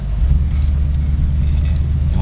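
A 1963 Buick Wildcat cruises on a California highway, its steady low engine and road rumble filling the cabin at constant loudness, with faint wind noise and no talk over it.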